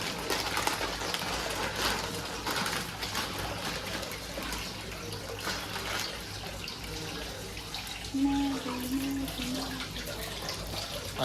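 Eggs being rinsed clean under a running kitchen tap, with a steady broadband rush of water and faint splashing throughout, close by and unaccompanied by talk.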